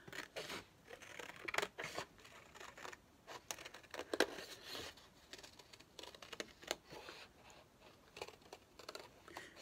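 Scissors cut out the bottom piece for a vase, making faint, close, irregular snips and crisp clicks in a quiet room.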